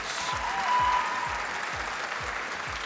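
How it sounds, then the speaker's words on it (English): A pageant audience claps for the scholarship competition delegates, a broad steady wash of applause holding at even volume for the whole stretch. "Please, round of applause for all the delegates."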